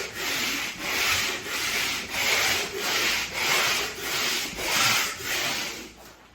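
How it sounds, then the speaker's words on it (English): A pole sander works across a painted interior wall in about nine even back-and-forth strokes, each a broad, loud scraping rasp at a steady rhythm, close by and with no voices. "I'll show you guys how to use this pole sander effectively"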